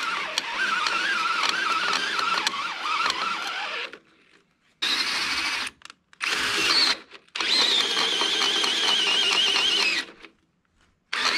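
A power drill runs in loud sustained bursts while boring into post-and-beam house timber, cutting out twice briefly before spinning up again, with whining strain throughout.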